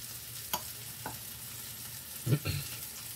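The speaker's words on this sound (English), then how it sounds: "Mix it all up." A spoon works through a bowl of batter with maple syrup mixed in, giving a few soft, sparse scrapes and taps against a quiet background.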